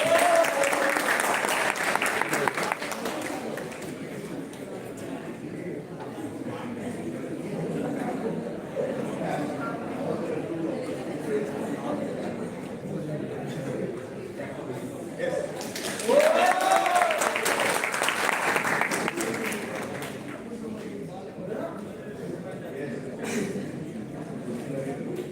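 An audience at a college pre-placement talk claps steadily for the whole stretch, with two louder bursts near the start and middle, and faint talking under the applause.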